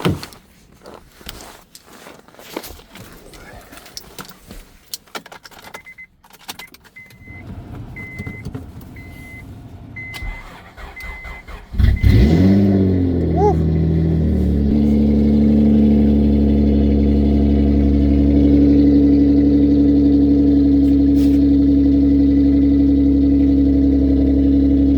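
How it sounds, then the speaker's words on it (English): A Honda Accord fitted with a custom exhaust cold-starts on a roughly 4-degree morning: faint clicks and shuffling, a brief starter crank, then the engine catches with a loud, steady, droning exhaust idle that holds to the end. "Alright, let's give her a nice cold start."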